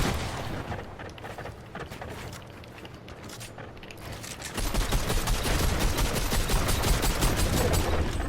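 Video game shotgun fire in a competitive match, rapid repeated blasts starting sparse and building into loud, dense continuous volleys in the second half, with no talk over it.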